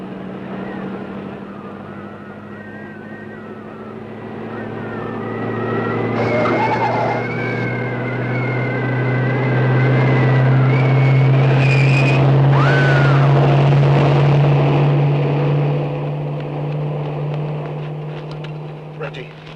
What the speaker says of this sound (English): Here comes a car!